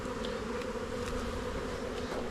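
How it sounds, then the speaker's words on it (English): Honey bees buzz steadily around an open hive during an inspection, a dense close droning hum that fills the whole stretch without pause or talk. "Let's just let you all kind of buzz around here."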